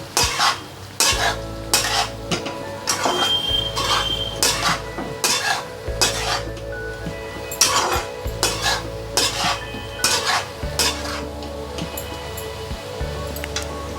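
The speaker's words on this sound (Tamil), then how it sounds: "நல்லா கிளறி விட்டுட்டு" Chicken being stirred in a metal pot with salt and turmeric for Pallipalayam chicken, a spoon scraping and clanking against the pot in repeated strokes over a steady sizzle, with no talking.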